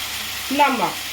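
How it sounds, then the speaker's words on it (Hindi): Onions and tomatoes frying in a pan for paneer jalfrezi give a soft, steady sizzle, with a short voiced sound rising briefly over it. "टमाटर और प्याज अच्छी तरह भून रहा है"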